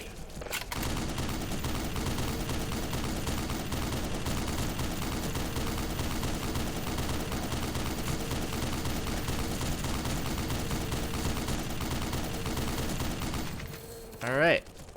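Sustained, dense gunfire from the Black Mesa video game keeps a rapid, close, loud barrage going for most of the stretch, then cuts off near the end, followed by a brief voice.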